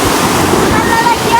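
Sea water surging and washing in at night on a beach in San Antonio, Zambales, a steady rushing wash with wind across the microphone, loud and close, with voices talking over it.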